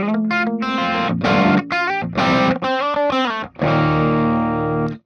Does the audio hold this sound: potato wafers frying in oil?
no